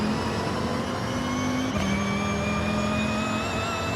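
A downgraded car engine in Forza Horizon 6 hums and climbs steadily as it accelerates, a continuous mid-pitched drone with a brief shift partway through, loud and alone.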